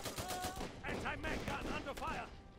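Gunfire in the real-time strategy game Iron Harvest crackles in rapid bursts of shots with a voice talking over it.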